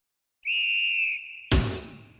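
A referee's single long, shrill final whistle blast at a football match, lasting about a second, followed by a burst of crowd noise.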